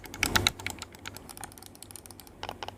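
The clicky D-pad buttons on a GameSir G7 Pro controller are pressed in rapid, busy bursts, giving a dense run of sharp plastic clicks close up with a brief lull in the middle.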